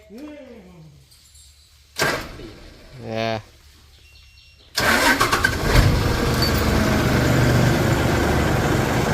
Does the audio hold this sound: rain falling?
no